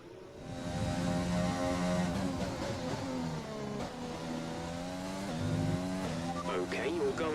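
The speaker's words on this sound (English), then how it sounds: "I'm just gonna let you hear the car, the Honda powered car, in all its beauty" Honda-powered Formula 1 car engine in the F1 2020 video game, a continuous high-pitched whine rising and falling as the car accelerates and shifts, loud and close throughout.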